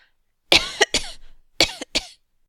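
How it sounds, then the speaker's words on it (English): Two pairs of sharp, close coughs, each a quick double burst, separated by a short pause in an otherwise quiet room, performed in a dramatic reading of Dickens's Hard Times. "was affected with a cough in her throat"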